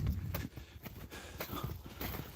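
A horse moving quickly on the ground, its repeated hoofbeats loud and close in an irregular clip-clop rhythm, with some rustling and breathing mixed in.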